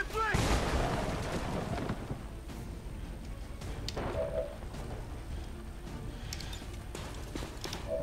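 A grenade goes off in XCOM 2 with a sharp, booming blast at the start, followed by rumbling debris and scattered smaller battle sounds, with some talk mixed in.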